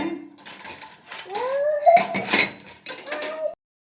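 Metal puja vessels clink and clatter as they are handled and set down, bright close knocks scattered through the clip, with voices talking over them.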